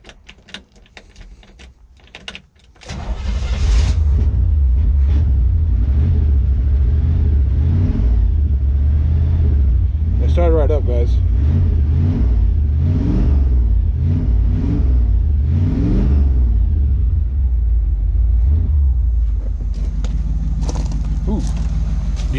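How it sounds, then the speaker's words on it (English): A 1971 Chevy engine, restarted after sitting ten years, idles after a choke adjustment: a loud, close, steady rumble kicks in after some scattered clatter and holds evenly, with a voice briefly talking over it. "guys hear the idle now?"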